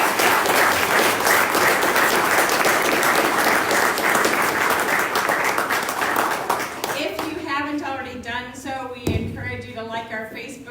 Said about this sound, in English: Let's have a round of applause for both candidates.